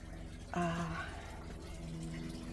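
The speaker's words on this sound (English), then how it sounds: "You can hear that I am dumping the water" Water being dumped out of an RV tank, a faint, steady gushing pour that starts abruptly with a brief louder burst, then runs on quietly.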